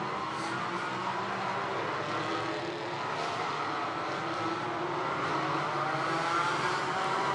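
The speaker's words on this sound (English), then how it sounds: "great noise that GT cars make, whether it's GT3 or GT4" GT4 race cars at the Hockenheim circuit during a GT4 European Series race start, giving a steady, continuous roar of several engines at moderate distance, with no talk over it.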